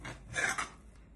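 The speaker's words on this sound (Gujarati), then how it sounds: "કરશું બધું મિક્સ" A spoon scraping and stirring a thick stuffing mixture in a bowl, a brief close rasping swish with two quick strokes, heard alone.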